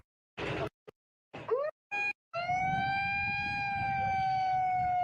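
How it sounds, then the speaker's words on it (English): A loud siren wails in long steady tones at the start of a karting race, following a few brief bursts of crowd or track noise. "There's a siren."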